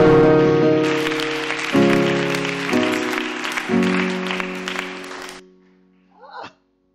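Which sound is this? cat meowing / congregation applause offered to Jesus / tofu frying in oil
congregation applause offered to Jesus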